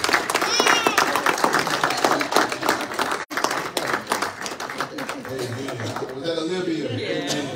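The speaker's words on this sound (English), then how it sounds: "let's give God a hand clap." A church congregation claps during a Sunday service, a dense run of hand claps filling the space with voices talking over and through it, the clapping thinning toward the end.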